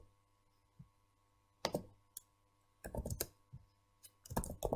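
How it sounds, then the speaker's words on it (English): Keystrokes on a computer keyboard, scattered soft taps coming in small irregular clusters, close and fairly quiet, with a faint steady hum underneath. "So I'm just going to type it rather than write it here."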